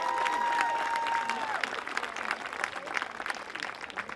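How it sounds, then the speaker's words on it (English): An audience at a mission fair service claps together in a dense, sustained round of applause, loud and close at first, then steady with a few scattered cheers. "Everybody give another round of applause for Josh and Elizabeth."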